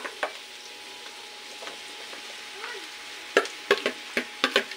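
Vegetables (upo) tip into a pan of sautéed onion and garlic: a steady faint frying hiss runs under the whole span, with a few sharp clanks and stirring scrapes clustered toward the end.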